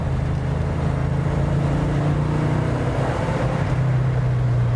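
A car engine pulls steadily at about 2,000 rpm in third gear, a continuous low droning hum with a slight rise in pitch, loud and close from inside the vehicle, with no talk.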